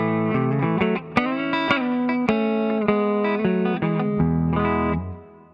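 Electric guitar played through the ToneStack PRO amp app with reverb and distortion effects, sustained chords and single notes ringing out with a lush reverb tail, loud and continuous, fading at the end.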